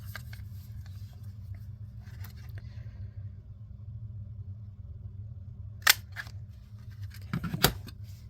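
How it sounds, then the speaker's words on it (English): A hand punch notching a paper envelope made from book pages, a low steady hum underneath, then a sharp single click, followed a moment later by a small cluster of crisp snipping clicks close up. "let's punch a little notch here so it's a little bit easier to get our stuff out of there"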